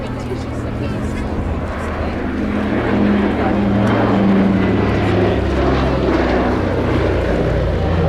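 A PBY Catalina flying boat takes off at the RAF Cosford airshow, its propeller engines making a loud, steady drone that swells slightly, with someone talking over it.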